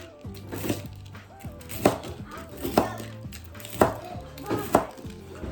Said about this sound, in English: we're gonna get our katsu sliced up